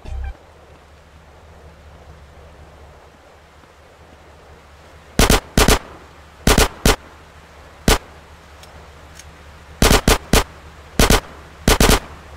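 Gunfire in GTA San Andreas: after several quiet seconds of low background hum, sharp, loud shots ring out in short clustered bursts of two or three, spaced irregularly through the second half.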